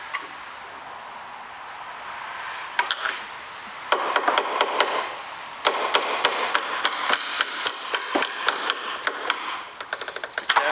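A hammer strikes a bolt out of a leaf spring hanger on a Renault Master van, first a few sparse metallic taps, then a rapid run of sharp, close blows that grows denser toward the end.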